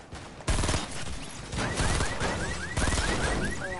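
Rapid bursts of automatic gunfire in a shooter video game, dense and loud, several volleys fired in quick succession back to back without pause, with no speech over them.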